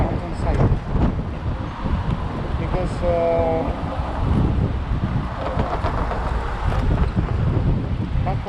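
Gusty wind buffets the microphone in low rumbling bursts while a person riding an e-bike in downtown Toronto talks over it, with traffic-like noise in the background.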